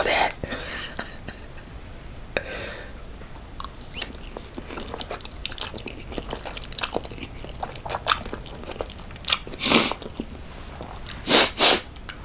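During a close-miked ASMR meal of Chinese food, a person sneezes and sniffs amid crisp bites and chewing clicks, with the loudest nasal bursts clustered near the end.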